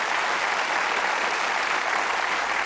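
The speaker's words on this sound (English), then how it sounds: "Give them a round of applause." Steady, dense applause from a TV game show studio audience fills the whole stretch at full volume, with no gaps and no voices standing out.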